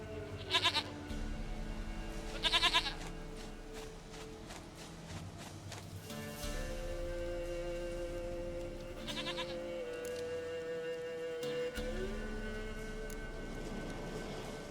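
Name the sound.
goats bleating in the video game The Witcher 3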